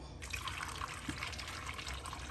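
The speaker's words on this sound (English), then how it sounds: "Just have to put them, add some water to cook it." Water poured into a cooking pot over washed yam for pounded yam, a continuous close splashing trickle that starts abruptly and runs on at a steady level.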